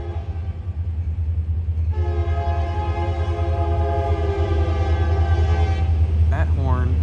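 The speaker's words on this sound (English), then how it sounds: "That horn sounds like it's foul." A train horn sounds a long, loud blast over rumbling rail traffic by an overpass near the Amtrak station in Effingham, and its tone sounds off. The horn holds for about four seconds, then fades under the continuing train noise.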